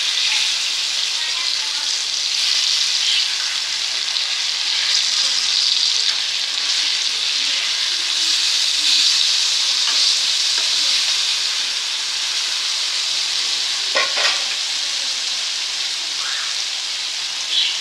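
Vanjaram (seer fish) pieces frying in a pan, a steady dense sizzle and crackle close by, continuing without a break, with a couple of small clinks.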